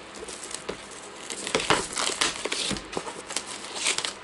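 Plastic packaging on a Metallica S&M 2 box set crinkles and crackles close by in irregular rustling bursts as the set is opened, with no talking.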